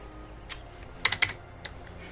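Keys clattering on a computer keyboard placed right above the microphone, a few isolated taps followed by a short burst of loud, close clicks, with no speech.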